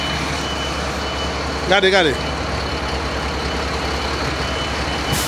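Garbage truck backing up with a clear, near reversing alarm that beeps in a short rapid burst over steady engine rumble, while people speak French and Creole nearby.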